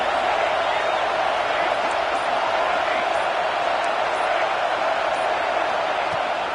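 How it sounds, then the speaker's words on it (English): A stadium crowd at a football game keeps up a steady, broad roar of cheering throughout, loud and continuous with no break. "this crowd trying to help keep them there"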